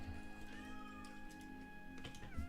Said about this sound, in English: What was my cat doing?